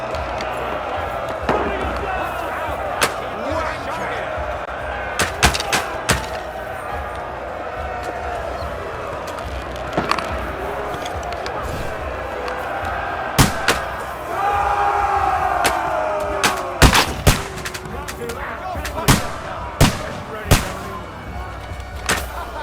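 A battle in Kingdom Come: Deliverance 2 with scattered sharp gunshots and bangs cracking out at irregular intervals over a constant din of shouting fighters and crowd noise.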